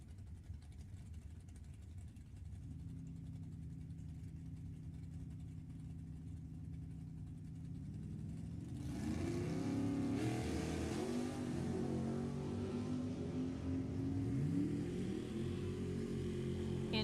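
Drag racing cars, a 1972 Pinto and a 1967 Camaro, idle at the start of a bracket race at Sacramento Raceway, then rev up loudly with rising engine tones, steady and close, with no talk.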